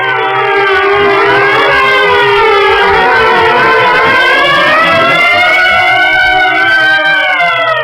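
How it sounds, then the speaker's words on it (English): Several sirens wail loudly together in a radio drama, rising and falling in overlapping sweeps that fill the whole stretch without any voices. "At the sound of the sirens"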